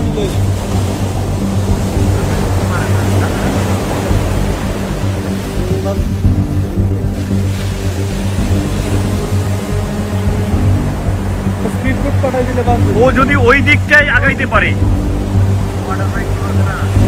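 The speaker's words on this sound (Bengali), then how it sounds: "হ্যাঁ ওয়াটার বাইক" A water bike (jet ski) runs out on the sea, giving a steady engine drone under the surf and wind while people talk nearby throughout.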